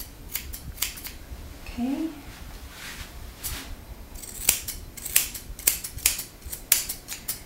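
Scissors snip crisply and close-up while trimming the coat of a Schnauzer during grooming, with irregular quick cuts that quicken toward the end and a brief spoken word amid them.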